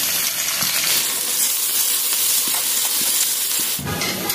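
Chopped garlic and onion frying hard in hot oil with cumin and bay leaf for a dal tempering, giving a loud, steady, close sizzle with small stirring knocks throughout.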